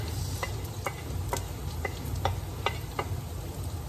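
Onion and garlic frying in a pan give a steady sizzle, broken by about eight sharp clicks and taps at uneven intervals, as if the pan is being stirred, with no talking.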